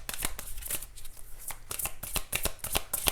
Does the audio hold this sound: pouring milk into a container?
no